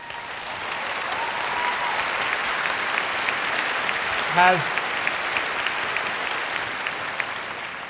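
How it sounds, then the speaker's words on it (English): Sustained audience applause fills a large hall at the 73rd Academy Awards ceremony, a steady wash of clapping from a big crowd throughout, with a brief voice and a short whoop-like sound rising midway. "please hold your applause until it's for me"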